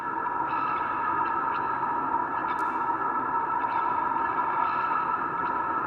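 A sustained ambient texture sample from the Fragments multi-kit, used in trap production, plays throughout. It is a dense, droning wash with effected shimmer and a few faint metallic pings on top, held at a steady level.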